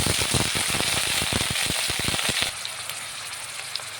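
Onion paste hits hot oil spiced with bay leaves, cardamom, cloves and cumin, crackling into a loud, dense sizzle with rapid spattering pops that abruptly settle into a softer, steady fry.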